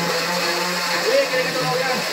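Kitchen blender crushing ice, a loud steady grinding whir throughout with faint voices underneath.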